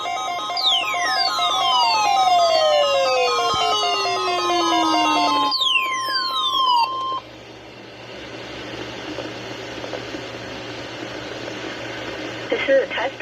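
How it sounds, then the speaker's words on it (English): NOAA Weather Radio warning alarm attention signal: loud, steady electronic tones with sweeping, falling chirps for about seven seconds, then cutting off to a quieter broadcast hiss with faint background sound. "The attention signals you've just heard will automatically activate special receivers to warn of the impending hazard."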